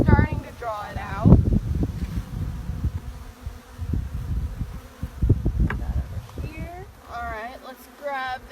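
Honey bees buzz around a frame in a newly installed nuc hive, a soft drone that runs beneath a person talking nearby, with some handling noises along the way.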